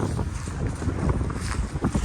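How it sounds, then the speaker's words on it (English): Strong wind buffets the microphone in a steady, roaring rumble among big pine trees at Pictured Rocks Lakeshore, with gusts swelling and easing throughout. "it's very windy here"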